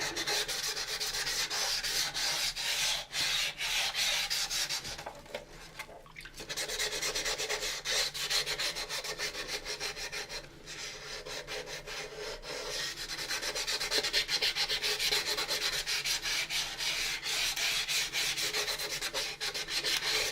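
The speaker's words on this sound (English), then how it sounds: "So this is just a general sanding for demonstration to the video." Steady, continuous sanding scrape on a plastic model kit of the U.S.S. Enterprise, close and fairly loud, with a brief pause partway through before the rubbing resumes.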